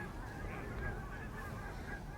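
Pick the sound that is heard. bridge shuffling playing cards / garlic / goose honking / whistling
goose honking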